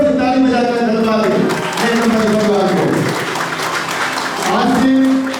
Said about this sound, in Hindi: जोर से ताली बजाकर धन्यवाद